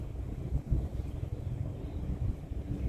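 Gusty wind buffets the microphone beside water where a 1-meter RC sailboat is being sailed, a steady low rumble with swelling gusts and no voices.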